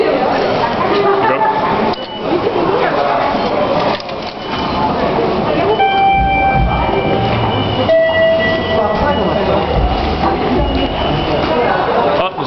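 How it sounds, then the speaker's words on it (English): A train pulls into a station, a loud continuous rumble with a few high tonal squeals from wheels or brakes as it slows, while people talk nearby. "Oh, this is our train."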